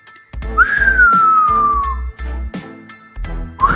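A loud, shrill human whistle sounds as a long gliding note that slowly falls in pitch, then a second whistle starts near the end. Sharp knocking beats mark a rhythm underneath.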